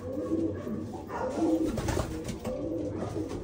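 Homing pigeons coo repeatedly at their loft as they arrive back from a flight, a steady, close, low cooing layered over a continuous background murmur.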